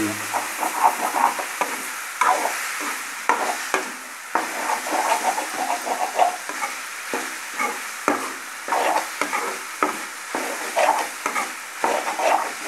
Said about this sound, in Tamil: மசாலா ஃபுல்லாக சேர்ந்த அளவுக்கு நல்லா வேக வச்சு கிண்டி